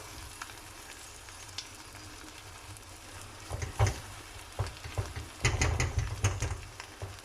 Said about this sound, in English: Keep stirring the onions from time to time.